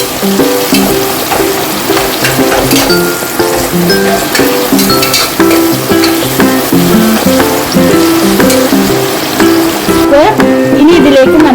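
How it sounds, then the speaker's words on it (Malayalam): Sliced onions sizzle and fry steadily in hot oil in a pan for vegetable biryani, a continuous loud crackle with occasional stirring clinks and a voice talking over it. "ഓയിലിലേക്ക് നമുക്ക് സവാള ചേർക്കാതെ നമുക്കിത് നന്നായിട്ട് വഴറ്റി കൊടുക്കാം."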